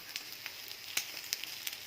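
Lao grilled sticky rice with white and black sesame sizzles in a little butter in a pan, a faint soft hiss broken by scattered small crackles and pops.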